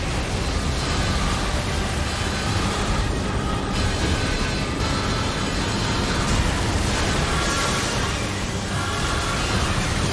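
Constant dense noise with rough bursts, fitting gunfire and explosions in the video game NieR: Automata; the barrage stays loud and continuous across the stretch, with no clear talk over it.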